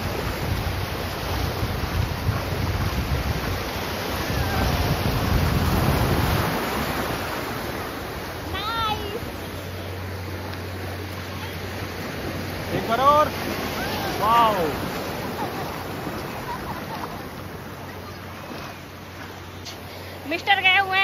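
Ocean surf rolls onto Radha Nagar Beach on Havelock Island, a broad steady wash with wind buffeting the microphone, someone talks over it, and distant high voices call out.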